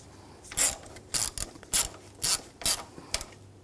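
Ratchet wrench tightening ignition coil bolts on a 2007-2013 BMW X5 3.0L inline-six, six evenly spaced bursts of close, crisp clicking, each a short quick ratcheting stroke with brief pauses between.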